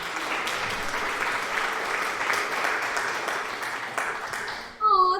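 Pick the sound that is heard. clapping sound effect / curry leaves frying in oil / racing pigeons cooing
clapping sound effect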